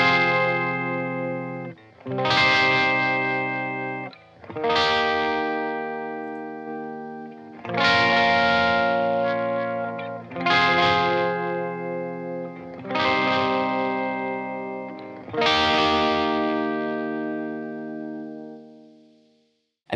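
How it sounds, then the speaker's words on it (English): Electric guitar run through an analog-mode delay pedal with a short, quick repeat, playing six ringing chords with distortion that decay into echoing tails, alone and fairly loud. "So I was just in the analog modes and had a quick repeat and set like that."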